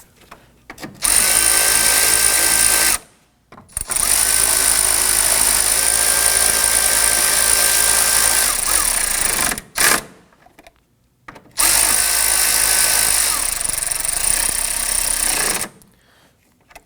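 A power tool snugs down radiator bolts on a 2015-2024 Nissan Murano 3.5L V6. It whirs loud and close in three sustained runs of several seconds each, with short pauses between them and no talking.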